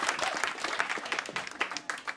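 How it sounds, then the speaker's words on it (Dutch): A studio audience claps in a brief burst of applause, a dense, lively patter of hands with scattered louder claps, close and steady. "Applaus nog even voor Timo, jongens."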